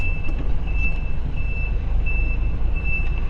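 A tractor head truck hauling a trailer reverses, its backup alarm beeping in a steady repeating pattern over a rumbling diesel idle.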